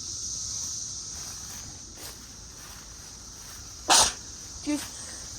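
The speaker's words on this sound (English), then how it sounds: "Excuse me about my sneezing." A single abrupt sneeze near the end, followed by a smaller burst, over a steady background hiss.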